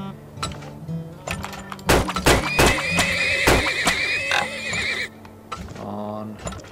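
A horse in the video game Turmoil whinnies loudly in a long wavering neigh, mixed with clip-clop hoofbeats, thuds and other game sounds, while a person talks over it.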